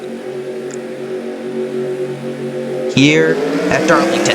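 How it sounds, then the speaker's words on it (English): Race car engines hum steadily on the Darlington oval under a commentator's voice, then a sharp rise as cars accelerate back up to speed after a caution period on lap 26. "There, you hear the engines now."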